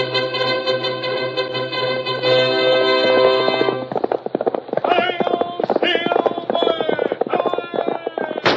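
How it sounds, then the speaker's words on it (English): Hoofbeats of a galloping horse in a 1938 Lone Ranger radio drama, a rapid clip-clop rhythm that takes over after a swell of orchestral music and runs loud and close to the end. "Horse with the speed of light, a cloud of dust, and a hearty hi-yo Silver, the Lone Ranger."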